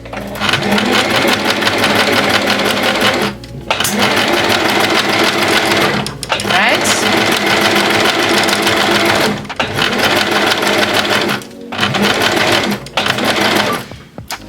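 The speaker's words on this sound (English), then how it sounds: "we're going to try to sew as best as we can with a tension of 0" An Empisal sewing machine running a straight stitch at zero thread tension, a loud, fast, steady mechanical whir in several long bursts with short pauses between runs.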